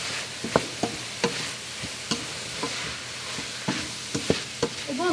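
Vegetables seasoned with salt and white pepper fry over medium heat while a utensil stirs them, giving repeated scraping clicks against the pan over a steady close sizzle.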